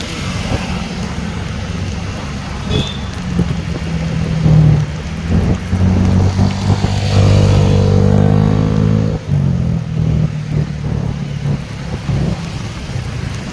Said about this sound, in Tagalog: malapit nang umuulan